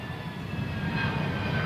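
An RAF Harrier jump jet's engine roars at the Air Expo 92 air show at Auckland International Airport, a loud, steady and unbroken rushing noise with no voices.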